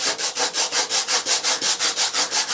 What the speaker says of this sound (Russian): Теперь лишнее просто сошлифовываем.